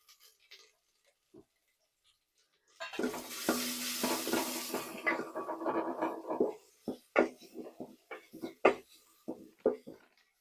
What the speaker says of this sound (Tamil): இதே எண்ணெயில் போட்டு நல்லா வணக்கி விட்டுருங்க